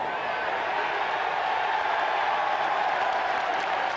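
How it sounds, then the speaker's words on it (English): Cricket crowd at a 1997 Sunday League match between Warwickshire and Gloucestershire cheering and applauding, a dense steady wash of clapping and cheers from a distance with no break. "Cheers in the crowd"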